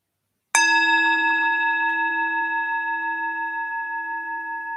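A single meditation bell is struck once, a bright clear strike that rings on with a long, slowly fading shimmering tone in otherwise quiet surroundings.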